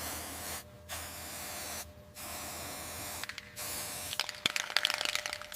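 Rust converter sprayed from an aerosol can onto bare metal of a 1966 Ford Bronco Gen 1 under restoration, in several separate hissing bursts with short pauses, the last bursts more broken and sputtering, close and fairly loud.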